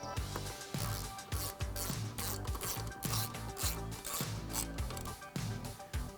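A hand ratchet clicks in quick repeated strokes, tightening seat bolts inside a Jeep JK Wrangler during a Corbeau Trailcat reclining seat install, close and crisp with a steady back-and-forth rhythm and no talking.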